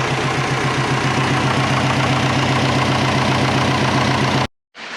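Twin-turbo Subaru engine idling loud and close with a steady, even rhythmic pulse, then cutting abruptly to silence near the end.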